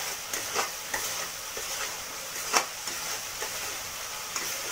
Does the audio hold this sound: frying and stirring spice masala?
yes